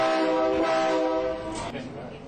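A train horn blares with a sustained harmonic tone that fades after a couple of seconds, loud and near, with voices around it.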